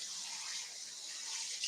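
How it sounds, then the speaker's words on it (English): Kitchen tap water runs over a bowl being rinsed, a steady, fairly faint rushing splash that continues throughout. "I'm going to just give this bowl here a quick rinse"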